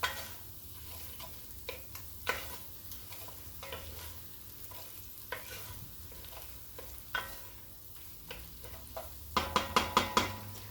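Onions being stirred in a hot pan, a steady sizzle with scattered scraping clicks of the utensil, ending in a quick run of louder taps near the close.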